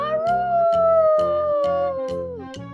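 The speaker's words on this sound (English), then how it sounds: "Came a howl from behind them." A dog howls in a long, wavering drawn-out note near Uluru in the Australian outback, with a rhythmic bouncy musical backing pulsing underneath throughout.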